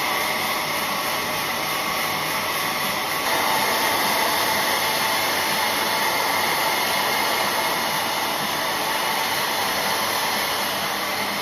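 A hair dryer blows steadily at close range while styling hair, a constant loud whooshing hiss with a slight shift in pitch partway through, running alone without any talking.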